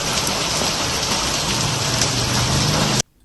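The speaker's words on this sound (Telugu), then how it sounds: "నగరంలోని అన్ని ప్రాంతాల్లో భీకరంగా వర్షం కురిసింది." Heavy rain pours down across Hyderabad in a steady, dense roar, loud and unbroken for about three seconds before cutting off abruptly.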